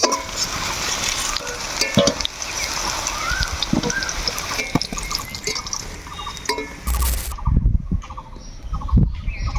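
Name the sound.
sola kochu (taro stems) frying in wok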